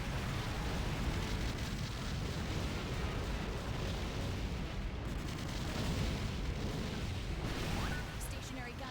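Explosions rumble continuously in the Godzilla video game as the monster destroys everything around it, a dense, unbroken wash of booms and crackling blasts at constant high loudness.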